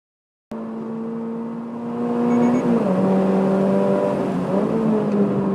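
A race car drives around a track, its engine note whining steadily and then rising as it accelerates, loud and close throughout, with no voices.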